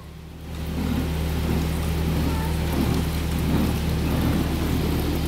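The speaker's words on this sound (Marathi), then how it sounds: "एवढं पाऊस चालू आहे" Heavy rain pours down in a steady, dense roar that swells in after a quieter first moment and holds constant throughout.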